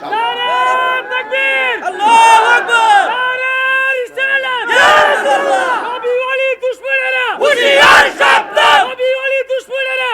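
A crowd at a Bangladeshi religious waz gathering chants slogans in loud, rhythmic bursts of many voices shouting together, with short pauses between phrases and a leader's call setting off each surge.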